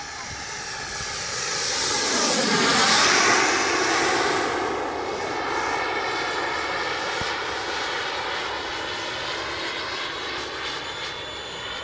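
Sebart Avanti model jet with a mini turbine makes a fast low pass, its whine swelling to a peak with a sweeping pitch shift around three seconds, then holding a steady high drone as it moves away.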